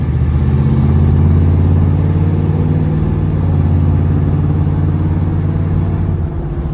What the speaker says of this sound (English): Monte Carlo drives straight down the road, guys